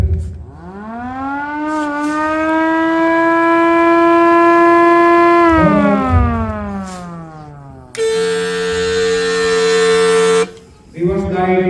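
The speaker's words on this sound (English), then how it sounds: "MPS siren" A loud vehicle siren winds up in pitch, holds a long steady wail, then drops, followed by a sharper, brassier steady blare that cuts off abruptly.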